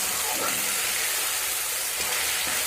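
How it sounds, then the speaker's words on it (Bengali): A steady, even sizzle of spice paste being sautéed in a pan for a light paneer curry, a constant hiss with faint stirring scrapes underneath. "মশলাটা কষতে থাকবো।"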